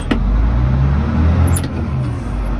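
A Caterpillar 988G High Lift wheel loader with a 9-yard spadenose rock bucket runs with a loud, steady diesel drone while shifting in reverse, with a faint hiss partway through.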